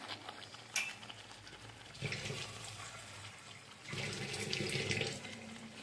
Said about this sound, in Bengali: আর একটুখানি আমি অ্যাড করবো এর ভেতরে জল